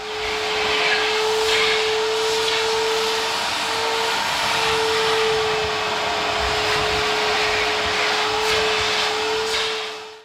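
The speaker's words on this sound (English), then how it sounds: "So I'm going to get a hoover with a nice pointy sharpie end and get in there and get all the dirt out." A hoover fitted with a narrow pointed nozzle cleans dirt from a Nissan Figaro car seat, running as a steady close whine with a constant hum that rises and dips slightly as the nozzle works the fabric.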